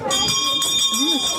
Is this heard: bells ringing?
yes